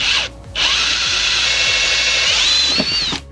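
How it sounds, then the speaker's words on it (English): A power drill bores two small holes in the bumper of a drift car, with a steady high whine and a short pause between the two bursts, close and loud. "I'm just gonna drill those two."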